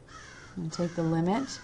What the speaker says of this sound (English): I really hope you can hear that crow outside my window.